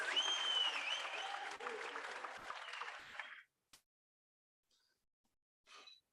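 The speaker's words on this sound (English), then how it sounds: "Another round of applause for the Sky Classics." Audience applause at a gala dinner for a community engagement conference, a dense, loud burst of clapping lasting about three seconds before cutting off, followed by a few faint scattered claps.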